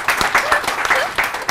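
Lively audience clapping, brisk and close, runs through a brief moment at a film team interview event, with a voice speaking over the applause.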